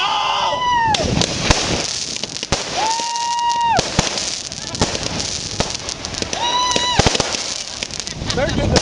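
Fireworks burst over the Edisto River in 2007 as a dense run of sharp cracks and booms, with several whistling rockets rising between the blasts and people talking nearby.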